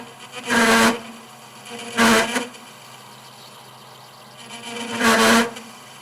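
Metal lathe chattering harshly during a parting-off cut, three separate loud buzzing bursts with quieter gaps between them.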